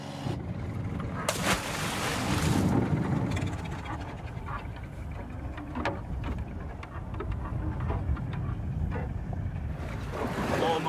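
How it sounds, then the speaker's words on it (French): A fishing boat at sea off Phuket, Thailand: engine drone and wind rushing at the microphone over open water, with occasional splashes and clatter on deck, steady and close throughout. "À Mudong, au sud-est, Lot, Kei et Bang partagent les frais d'essence d'un bateau en espérant remonter du poisson au bout de leur ligne."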